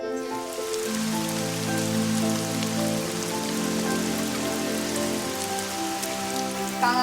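Heavy rain pours down steadily on surfaces, a dense continuous patter with tonal background hum and no talking.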